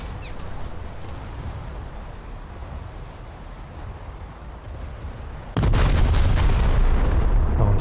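HMS Barham battleship guns firing in a naval warship game: a single huge, roaring broadside near the end bursts over a low rumble of engine and sea, then holds loud as the blast rolls on.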